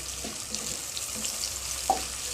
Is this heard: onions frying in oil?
yes